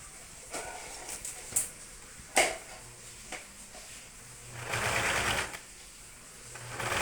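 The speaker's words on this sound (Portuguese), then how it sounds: "Então, a gente vai passar uma costura aqui. Ó, vou na máquina." Sewing machine stitching a seam, short bursts of rapid mechanical whirring between quieter pauses, with a longer run near the end, close and clear.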